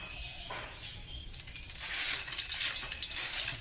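Panch phoron spices hitting hot oil in a pan start a soft hiss that swells into a steady, brighter sizzle, fairly quiet overall and heard alone.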